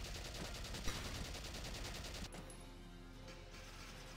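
Sustained automatic gunfire rattles in the Valkyria Chronicles video game, a fast steady stream of shots that cuts off halfway into quieter echoing reports, faint overall.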